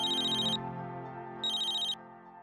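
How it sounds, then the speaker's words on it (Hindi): A telephone rings in two electronic bursts, each about half a second long with a pause between them, sounding alone over a faint room background. "मैं तुम्हें कब से फोन ट्राई कर रहा हूँ, तुम फोन क्यों नहीं उठा रही हो?"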